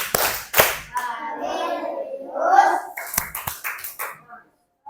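Schoolchildren in an Indonesian classroom do a short rhythmic clap chant during an ice-breaking activity, a few sharp clap bursts separated by a teacher's speaking voice, with a cluster of quicker claps near the end.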